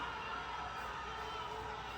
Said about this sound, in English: I got a little jacked up by the crowd noise, you know?